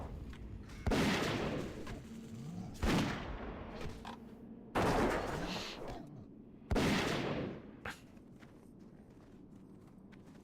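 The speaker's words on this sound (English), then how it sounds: "that gun sound" Four loud, sharp gunshot blasts from a zombie-hunting video game fire at roughly two-second intervals, each with a short decaying tail, over a quiet background.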